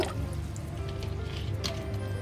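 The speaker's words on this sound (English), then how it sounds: "I'm just going to add some lime juice to this" Lime juice poured into a jug of soursop juice makes a continuous close liquid trickle and gurgle with small drips, steady and moderately loud.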